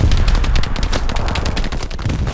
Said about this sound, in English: Keep firing that building.